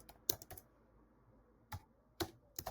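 Sparse keystrokes on a computer keyboard while a LinkedIn message is typed: a few sharp, close clicks in small clusters separated by quiet pauses.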